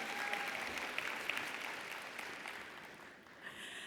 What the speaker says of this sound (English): You can applause.